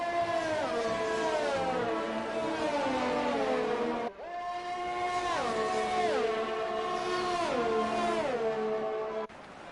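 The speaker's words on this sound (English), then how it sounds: "Happy Kilmore's engine does not sound that great at the moment." A race car engine in an FRL racing game at the Italy Grand Prix gives a whining, harmonic drone that rises and drops through repeated gear shifts. There is a brief cut near the middle, and the sound is fairly faint with no talk over it.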